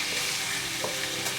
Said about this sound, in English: So I'm going to let that fry up some more.